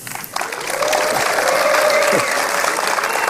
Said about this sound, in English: I think those guys are just clapping all the time.